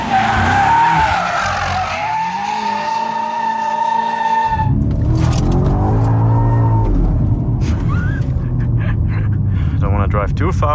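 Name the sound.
tire squeal of BMW M5 G90 drifting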